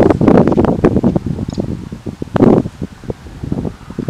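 Gusty outdoor wind at a scenic viewpoint buffets the microphone in loud, uneven rumbling bursts, with no one talking.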